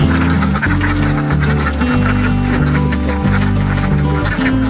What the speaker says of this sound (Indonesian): Lalu bebeknya dikasih makan seperti ini.